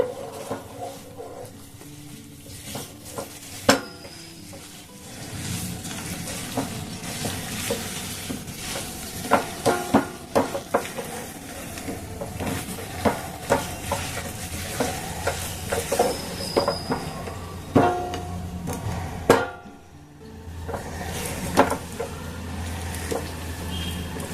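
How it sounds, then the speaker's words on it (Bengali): Sesame seeds stirred and mixed in a pan for a sesame sweet, with irregular scraping and clinking of a spoon over a low rumbling hiss. Sharper knocks come at intervals, close up, with no talking. "এবার দেখুন আমি তিলগুলোকে দিয়ে দেব। এগুলোকে খুব ভালো করে মিশিয়ে নেব।"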